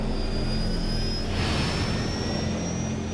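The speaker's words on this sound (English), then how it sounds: "Jet engines firing downward cancel out most of the vehicle's weight to approximate lunar gravity." Flying bedstead lunar landing trainer with downward-firing jet engines, roaring loud and steady throughout with a broad continuous jet rush and a faint high whine on top.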